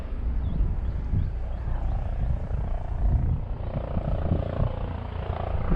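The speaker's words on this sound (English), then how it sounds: "Helicopter." A helicopter flies overhead near a lake while fishing for crappie in April, a steady loud rotor and engine roar holding throughout with no talk.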